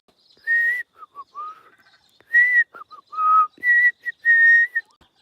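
A butcherbird sings clear, fluting whistled phrases in short bursts separated by quiet gaps, close and distinct against a silent background.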